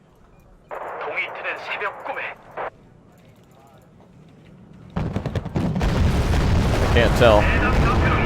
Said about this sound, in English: I'm going to try to bomb it.